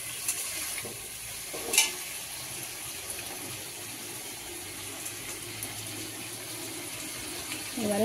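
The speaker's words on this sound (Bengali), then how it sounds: "এবারে মশলা ধোয়া জল দিয়ে দেবো একটু।" Spice-rinsing water goes into a pan of frying tilapia fish curry masala, giving a soft, steady hiss and gentle bubbling at low level, broken by a sharp clink near the start.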